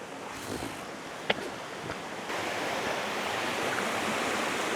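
Scale Force waterfall in the Lake District roars as a steady broadband rush of falling water, close and loud, with wind and no talk.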